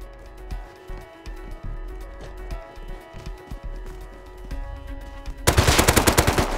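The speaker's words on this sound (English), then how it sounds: "It's an AK." AK rifle gunfire in the survival game Rust during a raid: scattered single shots and short bursts at a distance, then a loud, fast automatic burst close by at the end.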